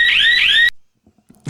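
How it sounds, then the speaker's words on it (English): A loud electronic alarm played as a sound effect, a two-tone rising sweep repeating twice in quick succession before cutting off abruptly into near silence. "This is an alarm."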